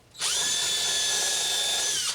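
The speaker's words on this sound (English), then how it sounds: "So I'm pre-drilling my first piece" A power drill with a countersink bit spins up and whines at a steady high pitch, running continuously close by as it pre-drills into wood.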